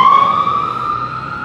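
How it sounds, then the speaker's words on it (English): An ambulance siren sounds nearby as it passes, a loud steady wail that fades slightly and drops a little in pitch over a second and a half. "here comes an ambulance."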